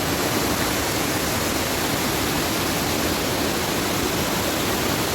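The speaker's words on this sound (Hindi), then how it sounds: "ये देखिए, एक झरना है, एक के 3 बन गए हैं।" A mountain waterfall splitting into three streams along the trekking route from Gangotri to Kedarnath roars steadily, a loud, close, unbroken rush of water with no voices.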